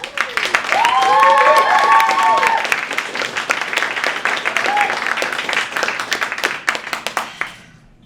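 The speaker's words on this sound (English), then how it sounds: "So let's give a round of applause for Helen." An audience in a theatre claps for a performer, with dense, sustained applause and a few cheers and whoops that fade out toward the end.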